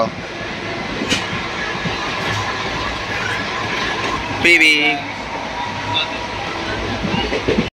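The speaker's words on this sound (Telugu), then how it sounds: "ట్రైన్ అయితే గుంటూరు చేరుకుంది" A passenger train runs on the approach to Guntur with a steady rolling rumble and faint wheel clatter, a short squeal near the middle, and muffled voices beneath.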